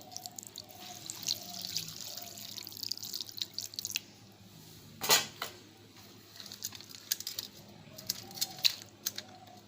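Water goes from a tap onto Maggi noodles in a bowl as scattered close drips and small splashes with one brief louder gush partway through, all fairly quiet and with no voices.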